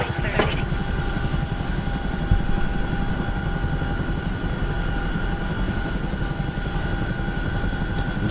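A Chinook helicopter starting up in a flight simulator game produces a continuous loud rotor and engine drone with a steady chopping pulse throughout, alone without talk.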